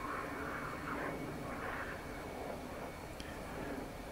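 A simulated Alphajet jet flies low past a runway in the DCS flight game, its engine roar a steady, moderately loud drone with no speech over it.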